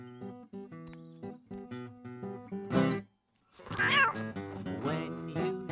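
A cartoon cat meows in a drawn-out, wavering voice over bouncy animated music, with a short silence midway before a louder yowling meow returns under the score.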